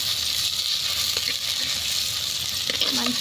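Chicken being stirred and cooked in a pan over a wood fire, a steady hissing sizzle with occasional soft clinks and scrapes, fairly close and continuous.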